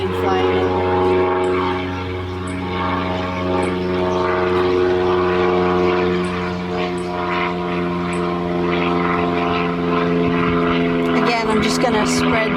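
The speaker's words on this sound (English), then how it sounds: "there's a plane flying in." A propeller airplane flies overhead while someone assembles a wooden honey super frame outdoors, its loud, steady droning engine hum with strong layered tones dominating the scene as a voice talks over it.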